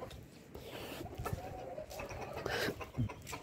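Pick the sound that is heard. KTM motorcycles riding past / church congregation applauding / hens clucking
hens clucking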